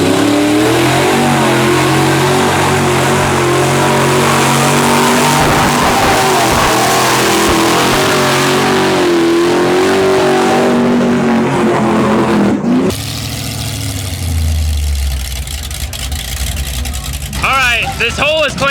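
Old-school Chevy truck on big tires with a 2.5-ton axle kit, engine revving hard and loud through a long sustained pull, then dropping off to a rougher idle with brief blips, with crowd voices and talk mixed underneath.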